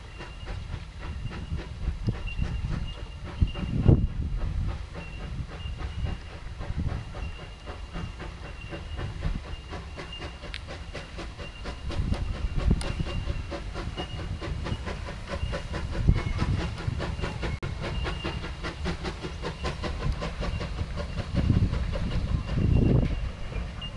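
A 0-4-0 steam tank engine pulls its train into a station with steady hissing steam and rhythmic rail clatter, chuffs swelling and fading as it draws nearer.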